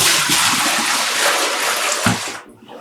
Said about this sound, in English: Just pouring out the water we used to soak the yarn